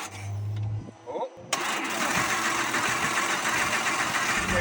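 A wrecked Lamborghini Huracan's engine cranks over steadily, a loud continuous churning that follows a brief low hum and a short pause, with people talking over it.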